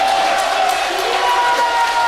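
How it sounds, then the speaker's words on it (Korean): A large political rally audience rises in a standing ovation, with sustained dense clapping and crowd noise filling the hall evenly throughout. "다 일어나서 기립박수 다 일어나서 누가 안 일어섰냐 보자. 다 기립박수 박수."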